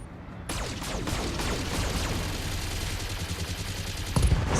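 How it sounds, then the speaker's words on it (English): Rapid bursts of gunfire and blasts from the video game Battletech rattle continuously, dense and loud, with a heavier thump near the end. "Explosions."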